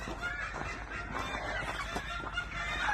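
Flock of backyard chickens in freezing winter weather, clucking and squawking excitedly around refilled water, a busy continuous chorus of overlapping calls close by.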